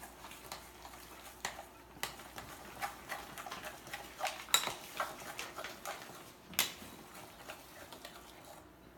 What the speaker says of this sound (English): put another egg in. Okay, and give that a good mix